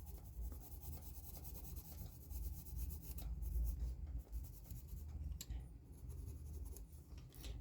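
Pencil shading grey tones on a paper drawing, a soft, close scratching and rubbing of back-and-forth strokes with faint pauses, heard alone and quiet.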